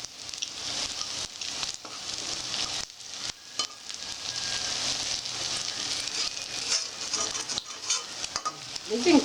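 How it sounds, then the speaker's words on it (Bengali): Prawn cutlets (chingri macher chop) deep-fry in hot oil until crisp, giving a loud, steady, close crackling sizzle that runs throughout, with a few brief stirring clatters toward the end. "কড়া করে একটু ভাজবে, কড়া করে ভাজতে হবে এটা।"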